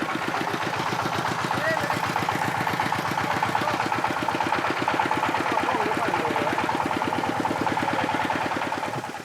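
The engine of an improvised tuk-tuk truck in the mountains sputters with a fast, steady, chugging rhythm throughout, loud and close, while a voice talks over it.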